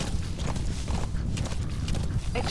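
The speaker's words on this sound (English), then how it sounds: "That's my horse." A horse in the video game Metal Gear Solid V trots with a steady clip-clop of hooves, close and moderately loud over a low background rumble.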